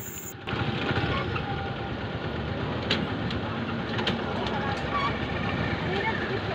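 A motorbike engine idles close by in a steady, unbroken low rumble that holds at an even level throughout.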